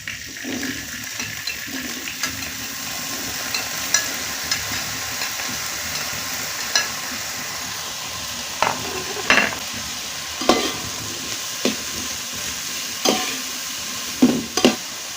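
Spices for mulberry pickle frying in a pan, a continuous loud sizzle with sharp intermittent scrapes of a spoon stirring, growing busier toward the end, no talking.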